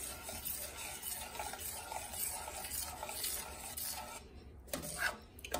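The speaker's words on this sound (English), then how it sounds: "And then stir it." A spoon stirs tomato marinara sauce in a pot, giving a steady scraping and swishing texture with a faint sizzle underneath, continuous for several seconds before a brief pause and a final scrape.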